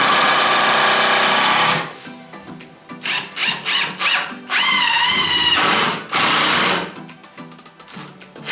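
A power drill with a small bit works wood during a shed window install, in several short bursts of whining motor that rise and fall in pitch, with a longer steady run in the middle and brief pauses between.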